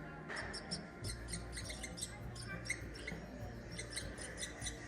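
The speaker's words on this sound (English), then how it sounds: "you can hear what a squirrel sounds like" Recorded squirrel chatter and warbler calls play in a museum forest-sounds exhibit as rapid, high chirping bursts in repeated clusters over a low hum of room noise, fairly faint.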